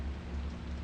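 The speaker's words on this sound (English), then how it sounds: "The rain is still pouring outside." Steady heavy rain pours outside in the Project Zero: Maiden of Black Water game, a dense, even hiss that holds unchanged throughout with no voices.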